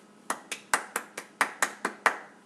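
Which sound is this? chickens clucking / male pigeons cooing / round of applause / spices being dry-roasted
round of applause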